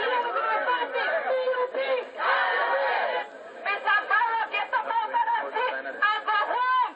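A dense protest crowd of political party supporters gathers in Belmopan, Belize, a steady mass of overlapping chatter and voices with scattered laughter, loud and continuous throughout.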